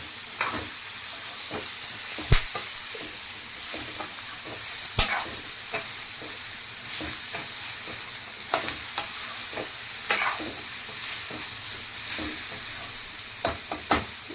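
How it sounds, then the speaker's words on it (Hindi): Wild kakora vegetable frying with spices in a pan, a steady sizzle broken by repeated sharp scrapes and clinks of a spoon stirring, close and moderately loud, with no talking. "फिर पूरे मसाले को और इस तरह से सब्जी को मिला दो"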